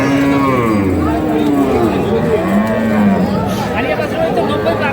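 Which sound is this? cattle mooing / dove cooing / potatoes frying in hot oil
cattle mooing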